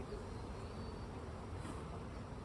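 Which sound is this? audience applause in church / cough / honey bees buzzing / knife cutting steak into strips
honey bees buzzing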